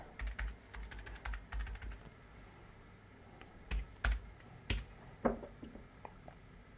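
Keys clatter on a computer keyboard in quick bursts, then slower scattered presses, close and fairly quiet with no voices.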